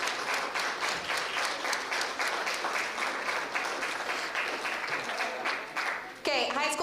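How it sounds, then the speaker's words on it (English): An audience at a high school geography bee gives a sustained round of clapping for the competitors, steady and fairly close, before a voice cuts in at the very end. "let's get a round of applause for our high school competitors"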